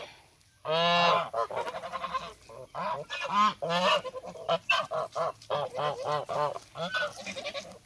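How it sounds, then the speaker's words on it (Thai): Chinese geese honk loudly and repeatedly, harsh nasal calls overlapping in quick bursts, close by. "เสียงดังเนี่ย โอ้ย ห่านจีนนี่คือตัวนำนะคะ"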